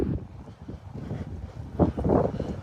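Gusty wind buffets outdoors in low rumbling bursts, swelling louder near the end.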